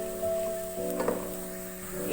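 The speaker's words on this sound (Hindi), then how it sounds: "अब हम इसमें ज़ीरा और साबुत गरम मसाला शामिल करेंगे, 1-2 मिनट ऑयल में फ्राई करेंगे।" Cumin seeds and whole garam masala frying in hot oil with lightly golden onions in a pan for dal gosht, a steady soft sizzle with a brief clatter of stirring midway.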